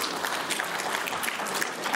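Delegates at an insurance general assembly applauding to adopt the meeting minutes, a continuous dense clapping from a large room, even and moderately loud for the whole moment.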